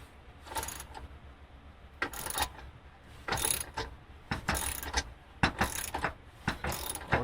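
A ratchet tightening a differential bushing bolt on a Nissan 350Z, in repeated bursts of rapid clicking with short pauses between them, close and fairly quiet.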